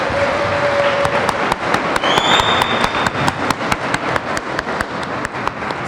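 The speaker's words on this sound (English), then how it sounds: "Let's give another round of applause for our scholars." A crowd applauds scholars at a birthday celebration for Mel King, with loud, dense clapping that carries a steady beat of sharp, rhythmic claps throughout.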